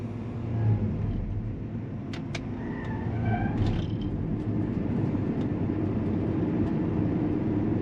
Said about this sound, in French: On va mettre donc les organes de battage en marche.